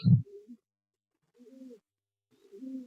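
Madrasi pigeons in a loft give soft, low coos, two faint separate phrases after an opening thump, close and quiet with silence between.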